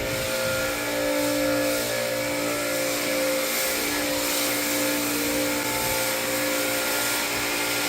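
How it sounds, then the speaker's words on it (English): Professional car wash equipment runs on a Maserati GranSport after rain, a loud steady mechanical whir and spray hiss with a droning hum, continuous throughout with no speech. "And after the rain, it's getting a professional car wash"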